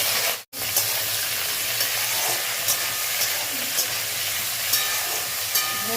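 Okra fries in oil flavoured with black cumin, a dense, even close sizzle with a few sharp pops and spits, broken once by a brief cut near the start.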